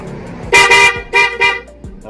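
A Suzuki Raider 150 FI motorcycle horn honks in short bursts, two quick toots, a pause, then two more, loud and nearby over a quiet engine hum.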